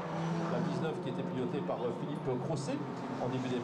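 VW Fun Cup race cars lapping at the Mettet circuit in Belgium, a steady engine drone running throughout beneath continuous commentary voices.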